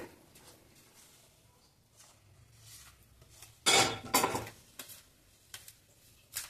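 A spoon stirring hot methi laddu mixture into jaggery syrup in a metal vessel, with light scraping and a couple of louder clinking bursts of metal on metal around the middle, fairly quiet overall.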